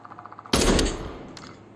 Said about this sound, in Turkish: Şimdi biraz da gun stokla atış yapalım.